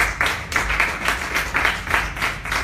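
Audience clapping at a business presentation, a steady patter of hands rising and falling in loudness throughout, fairly close and continuous with no voices over it.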